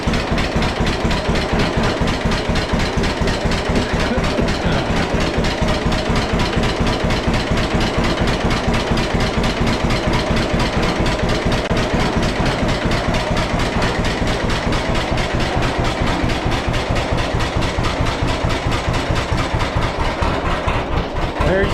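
A 1941 John Deere Model A tractor engine idles steadily nearby, a loud, even low chugging pulse that holds throughout with no talk.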